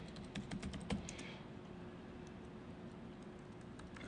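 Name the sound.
typing on a computer keyboard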